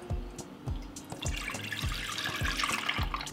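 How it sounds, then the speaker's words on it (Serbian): Milk poured into a pot makes a close, continuous liquid trickle and splash, with a faint rhythmic thumping underneath. "Prvo što ću raditi, u šerpu ću sipati 450 ml mleka."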